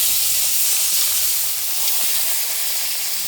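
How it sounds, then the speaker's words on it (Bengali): Parshe fish fry in a small amount of mustard oil with a loud, steady, close sizzle and hiss that runs unbroken throughout, with no voices. "সাবধানে ভাজতে হবে মাছগুলো"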